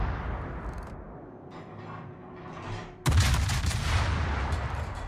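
In the World of Warships video game, a Des Moines cruiser fires its guns at a Yamato battleship. A sudden loud burst of gunfire comes partway through, followed by sustained booming volleys over a rumbling background.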